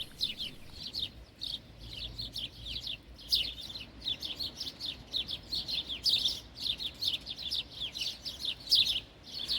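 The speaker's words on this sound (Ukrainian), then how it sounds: "Це це ж горобчики. Послухайте, як гарно вони співають" Sparrows in a park near houses chirp in a rapid, steady stream of bright, repeated notes, fairly faint, with no talking.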